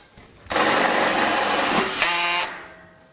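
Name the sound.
screwing a joist onto a Terrassteel deck structure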